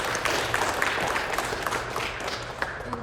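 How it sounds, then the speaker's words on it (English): Audience applause fills a club opening event, a dense, steady patter of many hands clapping at moderate distance without a break. "let's give another round of applause to Ryan and to his speech."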